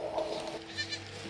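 Goats bleat on a rocky hillside in rural China near an old cave house, a couple of short, fairly faint calls over outdoor background noise.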